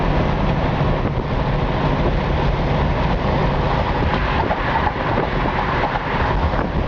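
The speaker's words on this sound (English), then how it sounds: "sorry about the wind noise. I do have the windows down." Steady broadband rushing roar of wind buffeting through the open windows of a 1964 Ford Galaxie 500XL while driving, loud and continuous with road rumble underneath, no voices.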